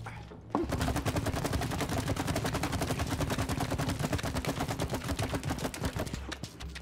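Rapid automatic gunfire in the video game It Takes Two, a long unbroken burst of dense, evenly spaced shots that starts abruptly and holds loud for about six seconds before stopping.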